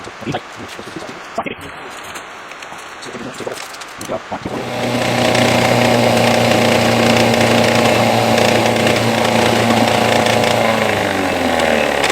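A formerly seized outboard engine starts up partway through and runs loud and steady with a strong droning hum, after a few seconds of quieter rustling and knocks.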